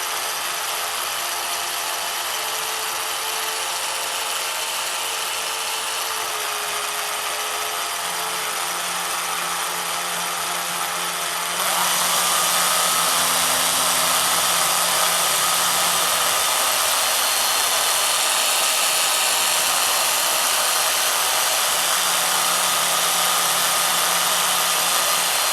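A power drill fitted with a dull bit grinds against the plastic shell of a DJI Phantom drone, a loud, continuous whirring buzz that shifts tone partway through and carries on steadily with no talk.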